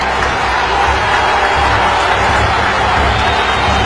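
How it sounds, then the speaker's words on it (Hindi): A large crowd roars and claps loudly and continuously, a dense wash of cheering and applause with no distinct voices. "जोर से तालियों के साथ मेरे इस बात को स्वीकार कीजिए।"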